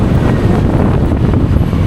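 Strong wind at Taal Lake buffets the microphone with a constant low roar and rumbling gusts.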